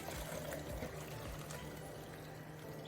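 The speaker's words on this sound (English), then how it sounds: "I'm just going to dump this boiling water" Boiling water is poured through a small strainer, giving a steady rushing splash of liquid that runs continuously and fairly quietly for about three seconds.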